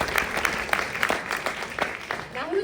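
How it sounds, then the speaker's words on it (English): An audience at a high school pageant claps in a dense, steady patter of applause, moderately faint, with a voice briefly speaking near the end. "Let's give one final round of applause for all of our help in making tonight possible."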